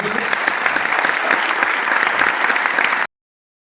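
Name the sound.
loud applause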